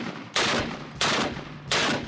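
An AK-50 large-caliber rifle firing: three loud, heavy booming shots spaced roughly two-thirds of a second apart, each with a long rumbling decay.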